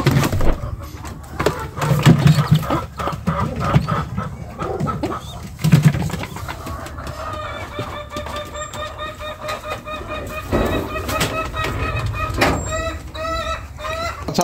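Pigeons in a coop where they nest and raise squabs, soft cooing and low bird calls nearby, with chickens clucking and rustling around, and a person speaking briefly.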